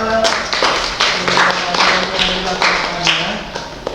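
A classroom of students claps for a classmate after a guidance lesson, a dense run of sharp hand claps that carries steadily for several seconds, fairly close and loud, with some voices murmuring underneath.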